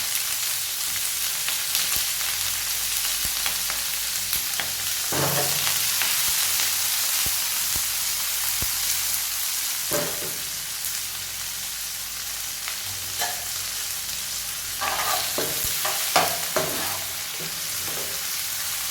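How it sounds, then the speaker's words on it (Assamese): Capsicum and tomato frying in hot oil in a pan, with a steady sizzle throughout and occasional scrapes and stirring clatter from a utensil, close up and with no talking. "তেল গৰম হৈ গ'ল কেপচিকাম বিলাহী দিওঁ"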